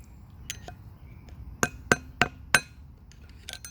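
An old Phillips screwdriver is struck against the sprocket lock tabs on a KM100, producing four sharp metallic taps in quick succession with a few fainter clicks around them and no talking.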